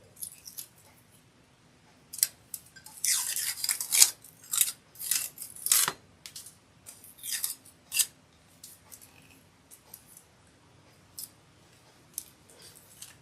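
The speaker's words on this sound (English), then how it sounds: "You just kind of want to be careful when you're peeling this off." Vinyl stencil being peeled from a glitter-coated Christmas tumbler, a series of short crackly ripping and snipping bursts close up, loudest early on and then thinning to sparse faint crinkles.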